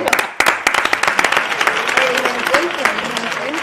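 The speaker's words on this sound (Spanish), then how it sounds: "Un aplauso." Studio audience applause at a local radio morning show welcoming two guests, sharp individual claps ringing out near and loud over a steady crowd patter, with voices murmuring underneath.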